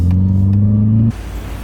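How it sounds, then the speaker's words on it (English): Nissan Skyline with an aftermarket clutch revving, a loud close steady engine drone with strong low harmonics held for about a second before cutting off abruptly to a quieter idle rumble. "You see, you gotta rev it up a little high."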